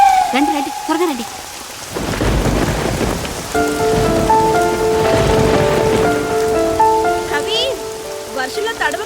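Heavy rain pours steadily in a film scene, with a low rumble of thunder and a swelling musical score that joins partway through.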